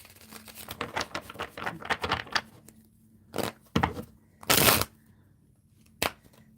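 Worn, falling-apart tarot cards being shuffled by hand: a few rapid papery riffling bursts up close, then separate short flutters with quiet pauses between them.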